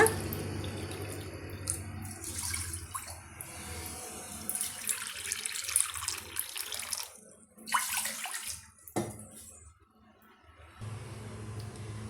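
Water pours into a cooking pot for making rice-flour kolukattai, a continuous splashing stream that swells and fades in bursts for several seconds, fairly close and without talk.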